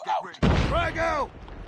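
A frag grenade explodes in Call of Duty: Mobile during a ranked Hardpoint match, a sudden loud boom that rings out and decays within about a second, preceded by a brief in-game voice line.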